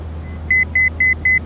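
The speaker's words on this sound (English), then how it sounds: "It's beeping because we're off altitude." A series of short, evenly spaced electronic altitude-alert beeps over a steady low engine drone, loud and close, in a small plane's cockpit on a flight into Madison.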